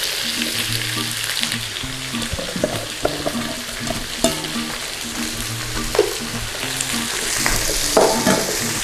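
Garlic and onions sizzle and fry in fat in a pan for a chicken stew, a steady bright crackle with occasional stirring clatters and utensil knocks, close and continuous without talk.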